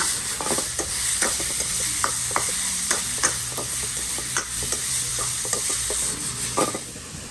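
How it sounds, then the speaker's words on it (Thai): Minced pork stir-fries in a wok over high heat without oil, a close steady sizzle with rapid, rhythmic scraping and clacking of the spatula throughout. "หมูสับนะครับ เราจะมารวน รวนในกระทะนี่แหละ ใช้ไฟแรง ไม่ใช้น้ำมัน"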